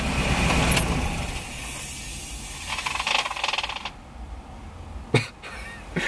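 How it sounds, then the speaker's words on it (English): A van engine idles roughly and unevenly with a low, rumbling drone and slight stumbles, and a couple of sharp clicks sound near the end. "it's just not as smooth of an idle as it should be"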